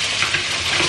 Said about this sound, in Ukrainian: Все ж таки вирішила смажити на двох сковорідках.